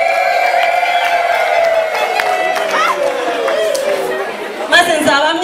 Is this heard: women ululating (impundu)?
yes